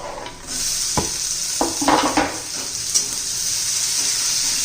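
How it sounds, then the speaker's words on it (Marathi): Chopped tomatoes tip into onions frying in a pan while cooking a rajma masala curry, with a loud steady sizzle and a few stirring scrapes and clatters over the first few seconds. "आता बारीक चिरलेलं टोमॅटो घालून घेऊया"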